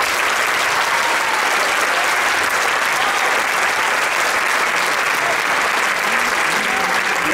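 Loud, dense audience applause at a choir tango tribute concert, steady and unbroken throughout, with no talk over it.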